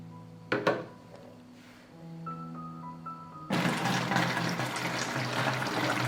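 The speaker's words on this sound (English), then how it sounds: "The glue has dried and now I will fill the bottle with water." Water pours into a plastic bottle in a sudden, steady rushing stream that starts about halfway through and stays loud and constant. Quiet musical tones and a few knocks come before it.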